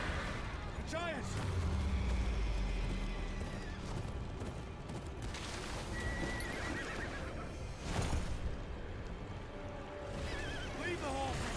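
Horses whinny and neigh loudly near a river on a path to the Wall in the Game of Thrones Kingsroad video game, with hoof clatter and battle ambience beneath shouted voices.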